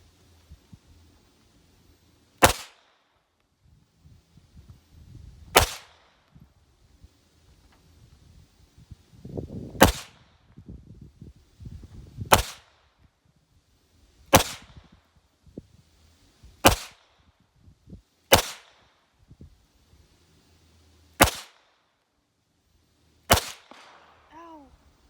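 Ten sharp gunshots from a small .22 Walther pistol fired at a paper target ring out one by one at irregular intervals of about two to three seconds, with faint background murmurs between shots.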